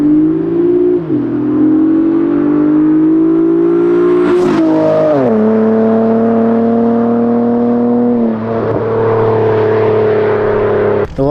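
A 7th-generation Honda Accord with headers and straight-pipe exhaust revs loudly, its engine note rising and falling through several sustained pulls and quick blips, up close and alone.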